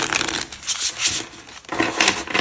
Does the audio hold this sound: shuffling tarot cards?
yes